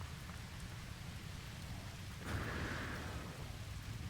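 Superheated rain pours down in the No Man's Sky video game, a steady dense hiss of rainfall that swells briefly louder midway through, with no talking.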